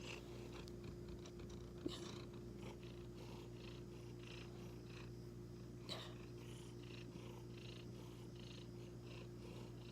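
A four-year-old male rescue cat purrs softly and steadily while resting close by, a quiet continuous rumbling drone with a couple of small clicks and no voices.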